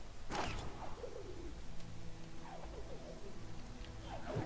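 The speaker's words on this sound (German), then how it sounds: "Da kommt bestimmt wieder der blöde Vogel" A bird in the video game Ori and the Blind Forest gives a few cooing, creaky calls over a steady background of dense game ambience.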